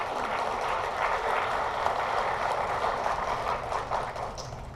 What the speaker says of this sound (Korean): 힘찬 박수로 환영합니다